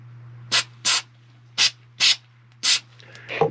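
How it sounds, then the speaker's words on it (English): Five short, sharp hissing bursts of aerosol cleaner sprayed into and around a switch, each lasting a fraction of a second with pauses between, over a steady low electrical hum. "Just kind of spray it in and around the switch."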